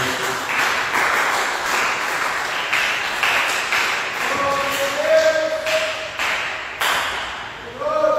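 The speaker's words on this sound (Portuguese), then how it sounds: "dê uma salva de palmas para Jesus" A church congregation applauds in praise, a sustained patter of many hands clapping in a reverberant hall, with a few sustained tones sounding beneath the clapping.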